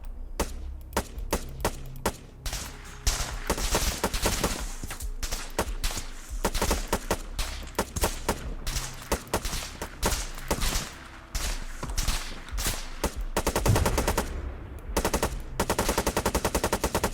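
Heavy gunfire rattles through an ARMA 3 beach assault: repeated machine-gun bursts and single shots crack in rapid, uneven volleys, loud and close, with near-constant fire and a few brief gaps.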